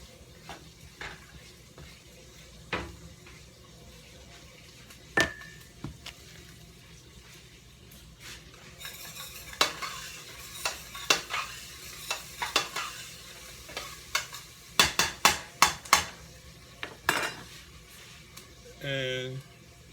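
Cilantro stirred into black beans sizzling in a pan: scattered scrapes and utensil knocks over a steady low frying hiss, with a busier flurry of stirring clatter in the second half.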